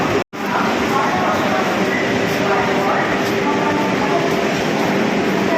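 An express train departing Howrah station rumbles steadily from close by, a continuous loud roar of rolling carriages after a brief dropout at the start.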